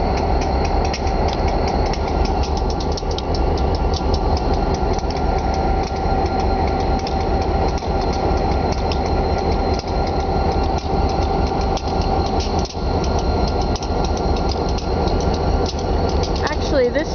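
Freight train cars switching on railroad tracks in the Berkshire Hills, a steady loud rumble of rolling cars with faint ratcheting clicks and clacks throughout, a brief knock near the end.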